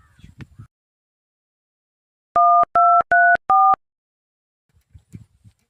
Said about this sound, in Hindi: फोन लगा बतिया लै छी